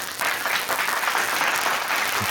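Steady applause from an audience at an interview event, continuous and fairly loud, filling the clip without a break.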